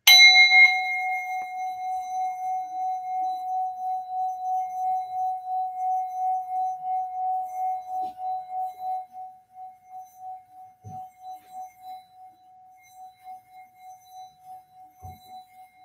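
A glass-toned singing bowl is struck once, ringing brightly with overtones, then sustained by rubbing into a steady pulsing hum that wavers and gradually fades, with a couple of soft knocks near the end.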